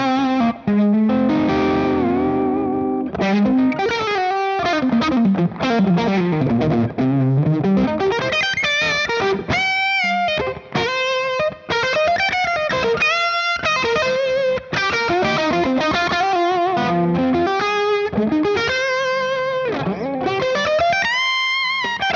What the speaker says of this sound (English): I love the sound of this humbucker